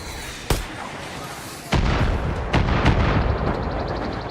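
Mortar fire in Far Cry 5, a sharp distant thump followed by a louder booming blast and further rumbling impacts that linger in the air.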